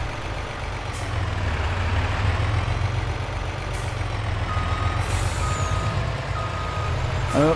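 A truck backs up, its reversing alarm beeping in a steady series over a low, continuous idling engine rumble, with brief hisses of air brakes.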